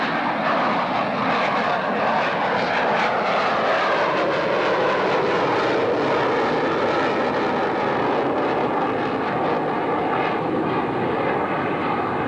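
Jet fighter with tail hook extended flying a display at the 1995 London International Airshow, a loud, steady engine roar sustained throughout with no voices.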